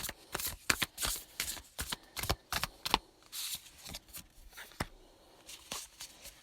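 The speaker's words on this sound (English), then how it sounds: "So we're going to pull one of these cards here to look further." Oracle cards are shuffled by hand in a quick series of crisp riffling and slapping bursts, close and dry, slowing toward a few lighter flicks at the end, with no talking.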